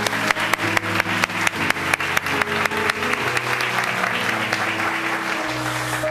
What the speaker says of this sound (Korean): 우리 일어나실 때 사랑과 축복의 박수를 보내주시기 바랍니다.